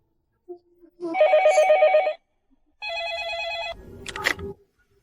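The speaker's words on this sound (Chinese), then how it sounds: "三小姐，是您的电话。" An indoor telephone rings in two long electronic bursts separated by a short pause, loud and close, followed by a brief clatter as it is picked up.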